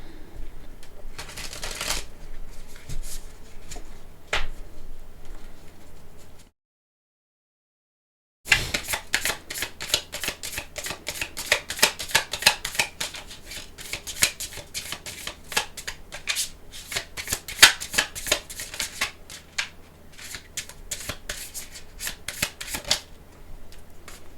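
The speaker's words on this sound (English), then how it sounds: "Do one more shuffle." Tarot cards riffle and shuffle repeatedly, with crisp rapid flutters and slaps, broken by a brief silence before the shuffling resumes in quick bursts.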